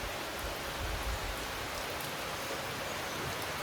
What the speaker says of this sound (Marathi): आणि आता जाता जाता पाऊस पण येत आहे.